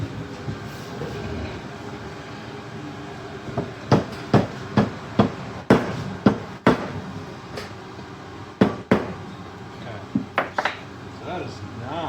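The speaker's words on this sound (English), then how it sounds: "Grab a rubber mallet." A rubber mallet strikes a Yamaha Maxim 750 motorcycle brake caliper during a rebuild, landing in clusters of sharp, close knocks with short pauses between bursts over a low background hum.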